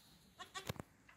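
Goats on a small rural homestead near Tosno, a few short, faint bleats in quick succession heard at a distance.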